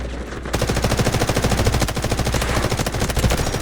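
Rapid automatic gunfire from the video game Delta Force, a loud, continuous rattle of closely spaced shots with slight pauses between bursts.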